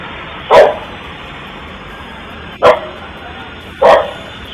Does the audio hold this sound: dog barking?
yes